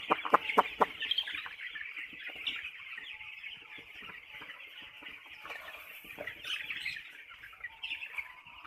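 A flock of chickens in a poultry shed with wooden perches clucks and chirps in a busy, continuous chatter, with a few louder close calls near the start over steady background noise.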